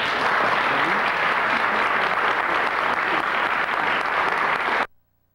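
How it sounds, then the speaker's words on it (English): Lecture audience at a Ford Hall Forum civil rights talk gives a sustained round of applause, a full, even wash of clapping that cuts off abruptly near the end. "if you can join me in a round of applause for his appearance this evening"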